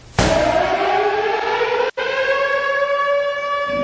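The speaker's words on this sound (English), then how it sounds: "I waited to hear that siren starting and the dogs begin to bark" A civil defense siren winds up from silence into a loud, sustained wail in a radio show intro, pitch sliding slowly, briefly cut by a short dropout before continuing steadily.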